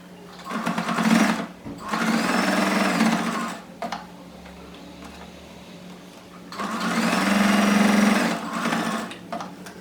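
A sewing machine stitches fabric for a sanitary napkin pouch in two steady, close bursts of rapid whirring, separated by a quieter pause with light handling.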